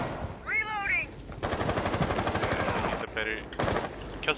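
Rapid bursts of automatic gunfire from a video game, with dense crackling volleys through most of the stretch, broken by short gaps and overlapping excited voices.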